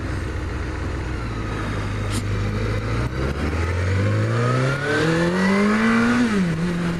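An engine revs up steadily, its pitch climbing through the gears as the vehicle accelerates, loud and close, with no talking.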